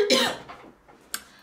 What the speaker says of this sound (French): pardon, je tousse, j'ai dû avaler de travers